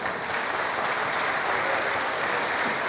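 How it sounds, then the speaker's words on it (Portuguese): A church congregation at a communion service applauds together, a dense, steady wash of many hands clapping that fills the room evenly throughout without letting up. "Pode aplaudir."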